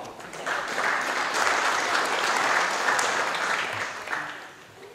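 Sustained applause from an audience at a rally prize-giving ceremony in Heinola, steady and dense for several seconds before tapering off near the end.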